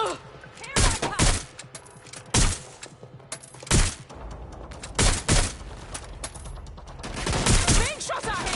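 Gunfire in the video game Watch Dogs Legion, loud close bursts of automatic fire coming in separate volleys with short pauses, plus a denser run of shots near the end.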